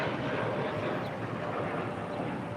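A jet engine roars steadily at LAX as an aircraft takes off from runway 25 right. The noise is broad, constant and fairly distant, and a wind rumble runs underneath.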